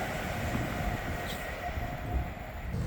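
An Avanti West Coast Class 390 electric train from Glasgow Central to London Euston passes through Nuneaton station on the West Coast Main Line, giving a steady loud rushing roar throughout.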